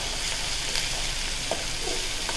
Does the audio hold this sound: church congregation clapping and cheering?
no